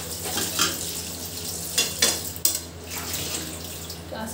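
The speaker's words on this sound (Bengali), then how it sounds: "ঘি দিয়ে একটু নাড়িয়ে দিতে হবে।" Fried potatoes being stirred with ghee in a pan, soft scraping and light clatters of a utensil over a low steady sizzle.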